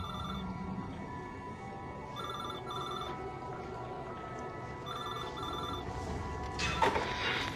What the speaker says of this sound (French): Je rédigeais des dossiers quand le téléphone a sonné.